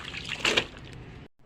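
Water poured over clothes to soak them, a brief trickling splash that swells and then stops abruptly.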